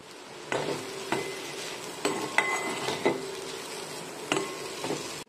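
Boiled egg pieces stirred into frying rice in a pan, with steady sizzling under repeated scraping and clinking of a spatula against the pan, several distinct stir strokes close by.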